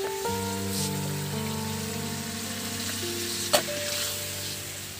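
Ghugni masala with boiled peas frying in a kadai gives a steady close sizzle as more water goes in, with one brief clatter near the end.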